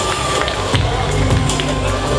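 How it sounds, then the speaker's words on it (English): Crowd at a cosplay show during a winter gaming festival claps and cheers steadily for a contestant, a dense, continuous burst of applause filling the hall. "Big round of applause"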